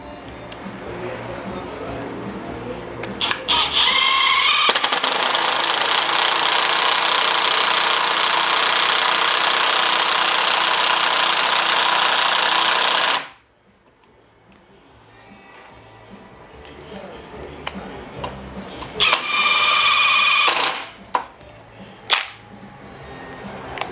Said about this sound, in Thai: เดี๋ยวเราลองมายิงสกูเลยครับผม